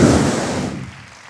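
A church congregation applauds in a brief, dense burst of clapping that quickly fades away.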